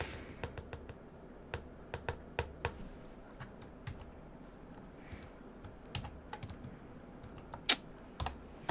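Someone types on a computer keyboard while coding in C, producing irregular, close, crisp key clicks in short bursts with pauses, one sharper tap standing out near the end, and no talking.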